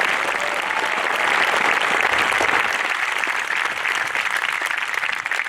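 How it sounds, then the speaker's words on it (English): At a high school class of 2020 graduation ceremony, the audience gives a sustained round of applause for award winners, broad and steady clapping from many people, fairly loud throughout. "I would like a nice round of applause for all our award winners"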